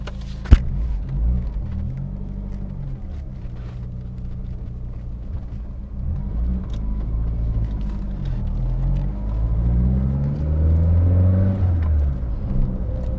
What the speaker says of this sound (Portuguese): Só para vocês verem a delícia que é darem uma voltinha aqui no Lancia Delta Integral Evo 2.